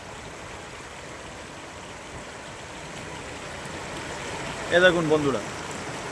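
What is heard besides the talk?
clear stream water flowing fast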